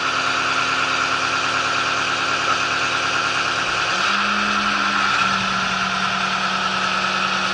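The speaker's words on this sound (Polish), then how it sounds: "To najwyżej ciągnik wezmę" Tractor engine idling steadily, then shifting as it is put into reverse, a close mechanical hum with a brief dip and a new sustained tone as the machine starts to move back.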